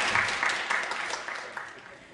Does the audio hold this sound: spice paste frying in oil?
no